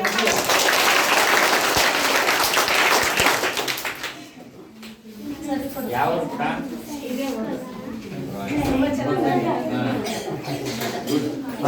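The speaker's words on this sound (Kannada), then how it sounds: "ಜೋರಾದ ಚಪ್ಪಾಳೆ" Loud applause from an audience at a student award ceremony honouring high-scoring children, dense clapping for several seconds before it fades and speech and crowd chatter take over.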